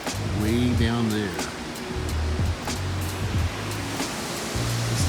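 Waterfall on Iceland's Golden Circle roaring as a constant broad wash of rushing water in the background, while people talk over it.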